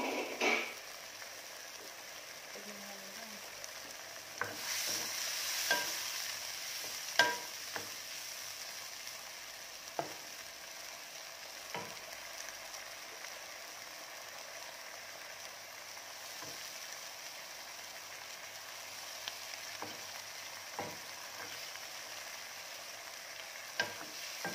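Snow peas stir-frying in sesame oil over high heat, a soft continuous sizzle with occasional sharp clicks and spatula scrapes, fairly quiet and steady with no talking.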